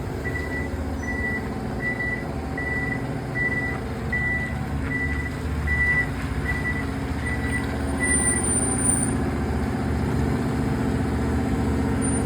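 A truck backs up with a steady series of evenly spaced reversing beeps over the constant low rumble of its idling engine, heard close by with no talking.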